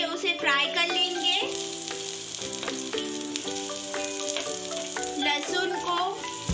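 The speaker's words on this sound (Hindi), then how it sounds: "अभी हमने जो वेजिटेबल्स लिए थे उसे फ्राई कर लेंगे।" Vegetables fry in hot oil in a pan, a steady sizzle running throughout under a spoken voice and stirring sounds.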